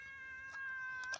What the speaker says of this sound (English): there ain't a day goes by we don't have cat wars around the shop.